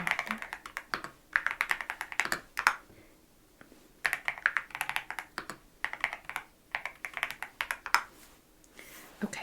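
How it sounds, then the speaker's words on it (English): An ISBN number is typed on a computer keyboard in a thrift store. Crisp, rapid key clicks come close by in bursts with short pauses between them, and no talk is heard over them. "So we're going to just type in the ISBN number here."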